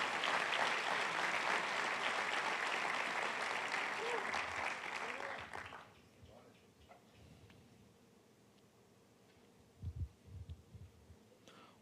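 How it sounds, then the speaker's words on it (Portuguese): A church congregation applauds loudly during a sermon, the dense clapping holding for several seconds before cutting off abruptly, followed by a quieter room with a few scattered thumps and faint voices. "Aplauda o Senhor se você crê nessas palavras."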